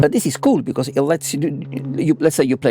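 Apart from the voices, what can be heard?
None of the usual background noises is heard.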